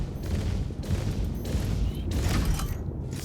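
Sustained rapid gunfire from size 3 industrial grade B ballistic ship weapons in the space game Star Citizen, a dense continuous stream of booming shots with no speech.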